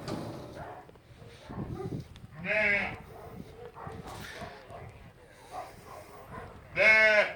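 Sheep and lambs on a farm bleat loudly and nearby, two strong calls standing out against quieter bleats and soft animal and background sounds.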